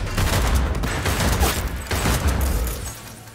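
Gunfire in the video game Cyberpunk 2077 Phantom Liberty: a dense, loud burst of rapid shots rattles on almost continuously, with a few sharper cracks standing out before it tapers off at the end.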